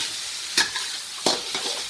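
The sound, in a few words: rice stir-frying in a steel wok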